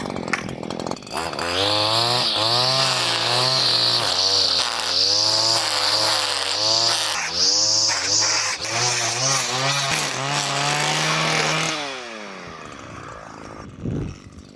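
A line trimmer fitted with an Arnetoli trimmer head runs close and loud, its engine revving and wavering in pitch for about eleven seconds before winding down and falling quiet.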